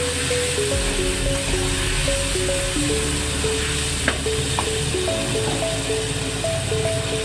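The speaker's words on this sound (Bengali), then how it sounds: "আর চালে ডালে ভেজে নেব।" Washed rice and lentils fry together in a pan for a cauliflower and potato khichuri, giving a steady, close, unbroken sizzle with stirring sounds and a faint tonal hum running underneath.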